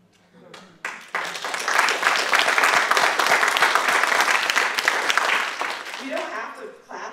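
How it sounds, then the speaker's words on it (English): Applause from an audience at a poetry reading, rising quickly from a few early claps into full, sustained clapping before tapering off as a voice begins speaking near the end. "have to clap after every poem, but I'm going to let you"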